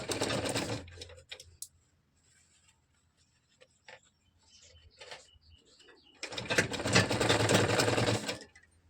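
A sewing machine stitches piping onto a katori blouse in two loud, steady whirring bursts, one short at the start and a longer one near the end, with quiet handling of fabric in between.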